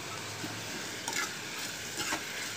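Potato curry sizzles in a pan while being stirred, a steady close hiss broken by a couple of quick scraping strokes, brief and without any voices.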